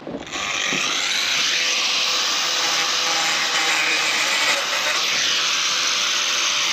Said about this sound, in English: So got the grinder out, we're gonna get cutting